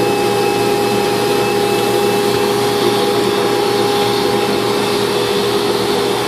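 A banner heat welder hums steadily while hemming a banner, its constant machine drone holding an even, loud level throughout with a fixed tonal whine and no voices over it.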